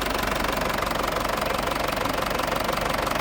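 An Isuzu Dragon pickup truck engine idles steadily nearby, a rough, even chugging rumble with a rapid knocking pulse and no talking.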